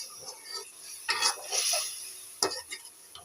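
A spoon stirs goat meat cooking in a pot, with close scraping strokes and light metallic clinks coming in irregular bursts, some sizzling underneath, and no voices.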